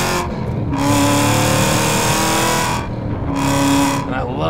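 A 1000-horsepower Hennessey H1000 Cadillac CT sedan with a six-speed manual launches at a track, its engine roaring loud and close through two rising pulls with a brief dip between them.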